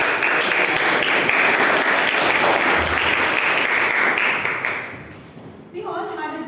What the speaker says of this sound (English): Let's give a thunderous round of applause.